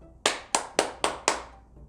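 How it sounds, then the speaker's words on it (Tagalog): Five sharp hand claps in a steady, even rhythm, close and crisp against a quiet background. "At pumapalakpak."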